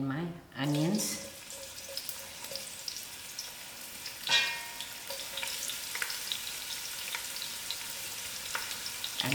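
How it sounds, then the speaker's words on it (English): Onions hit half a cup of hot oil in a pot over moderate heat, a sudden loud sizzle swelling early then settling into a steady crackling fry with a second burst midway, a voice talking briefly at the start. "I put in my half a cup of oil, and then I'm going to add in my onions"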